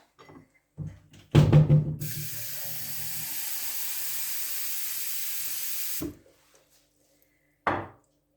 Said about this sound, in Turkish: Şimdi iç harcını dökmeden önce tepsime su ekliyorum